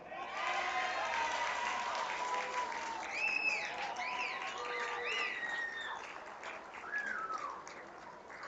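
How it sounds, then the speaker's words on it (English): A crowd claps for individual award winners at the closing ceremony of the 2024 Over-35s National Championships, moderate and somewhat distant, with bird chirps and whistles cutting through over the applause. "can we get a bigger round of applause for our individual award winners"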